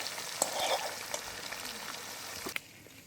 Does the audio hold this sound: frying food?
yes